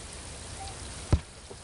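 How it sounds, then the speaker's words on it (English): Rain falling in the video game Backyard Football 2002, a steady soft hiss of drops across the whole stretch, broken by one sharp splash or thud near the end. "It's raining."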